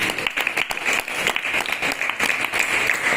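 An audience clapping loudly in unison during a Jain monk's religious sermon, a dense, continuous burst of applause filling the space for a few seconds.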